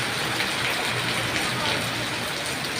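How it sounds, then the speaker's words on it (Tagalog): Heavy rain pours suddenly in a dense, even hiss that stays loud and steady throughout, with no voices over it. "Biglang buhos yung ulan."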